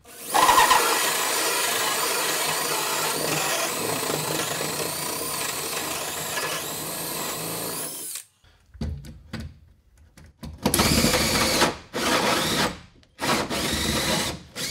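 Power drill driving into a cavity space during DIY plumbing work: a loud, steady whirring drive for about eight seconds, then a pause followed by several shorter bursts of drilling with brief gaps between them.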